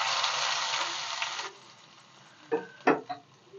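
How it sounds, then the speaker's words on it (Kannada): A tempering for greens chutney sizzles loudly in hot oil for about a second and a half, then drops away to a few quiet, separate clatters and brief crackles nearby. "ಇವಾಗ ಒಂದು ಸ್ವಲ್ಪ ಒಗ್ಗರಣೆ ಮಾಡ್ಕೊಬಿಡೋಣ."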